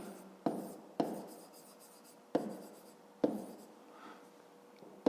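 Pen writing in a school notebook for a fifth-grade maths exercise, with sharp strokes marking about five distinct onsets and scratchy scribbling in between. The writing is close and quiet, with no voices.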